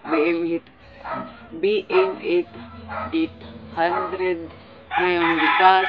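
A rooster crows in the background through a sensitive condenser microphone, the crowing rising under steady Tagalog speech that runs throughout.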